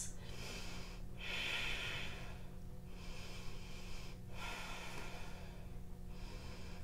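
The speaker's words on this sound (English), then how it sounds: "Four Ujjayi breaths." Slow, steady Ujjayi breathing during a yoga pose in a backbend and hip-opening vinyasa class, four long rhythmic breaths with audible throaty rushes of air, close and fairly quiet, alone without talk.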